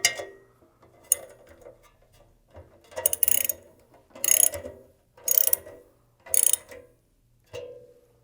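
Bolts being tightened on the gearbox of a Walton's stuffer, heard as a series of sharp, close ratcheting bursts separated by short pauses, roughly six clicks of a ratchet wrench.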